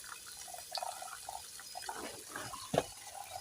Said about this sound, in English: I'm going to drain the soup because I don't like cooking my beans with this